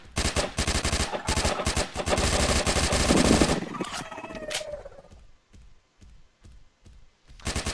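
Rapid automatic gunfire blasts in the sci-fi multiplayer shooter Evolution, loud and dense for several seconds, then thinning to scattered single shots.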